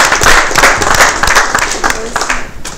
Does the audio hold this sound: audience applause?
yes